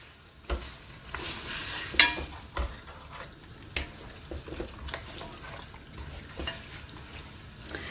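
Beef for biryani being stirred and sautéed in a pot, with a soft steady sizzle broken by irregular scraping and clinking strokes of the spoon, close and fairly quiet.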